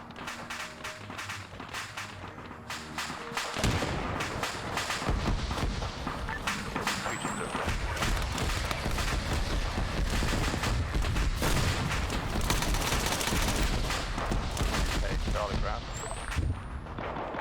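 Heavy vehicle gunfire in Arma 3, including a .50-calibre gun firing on MRAPs, pounds in dense, continuous bursts and rattles loud and close, with voices and radio chatter running beneath.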